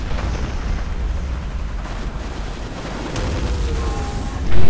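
A commando sniper is vaporized in a war video game, a loud, sustained rumbling blast with crackling debris that swells again in a sharp boom at the end, no talk over it.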